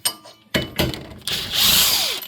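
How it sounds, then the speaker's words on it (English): Impact wrench on a Chevrolet Lumina during rear wheel bearing replacement: a couple of short close clicks and knocks, then a loud sustained high-pitched whirring burst as the bolts are spun out. "now you can get in with your impact. Pull the bolts out."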